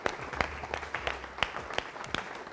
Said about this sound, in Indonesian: Berikan tepuk tangan yang meriah dong buat kita.